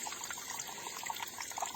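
Water seeps and trickles into a small spring well dug in the ground, a faint, steady liquid babble heard close up with no voices.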